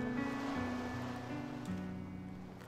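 Ocean waves wash against the foot of a cliff in a horror RPG, a steady, full surf roar heard alone and up close, with layered tonal game music droning over it.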